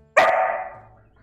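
One loud, close dog bark that rings out and fades over about a second, heard alone during a live game stream at home.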